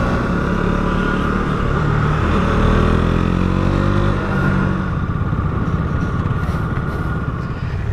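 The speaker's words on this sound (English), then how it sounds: "And there it is, guys, the KTM 200 Duke, or Duke 200" A 2021 KTM 200 Duke single-cylinder motorcycle engine runs loud and close, holding a steady buzzing drone with rising and falling revs and a rough, throbbing low end, with no one talking.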